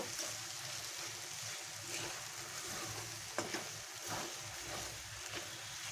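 Taro stolons and egg fry in a pan while being stirred, giving a soft, steady sizzle with faint scraping strokes, quiet and close with no talking.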